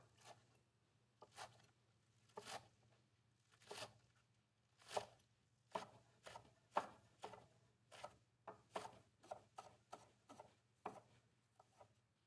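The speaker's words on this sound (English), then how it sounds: "We're going to cut the greens into 1-inch pieces and then thinly slice the whites." A knife chops and slices scallions on a board, cutting greens into pieces and thinly slicing the whites, in sharp separate strokes that start slow and speed into a quicker, uneven run, close and clear in a quiet room.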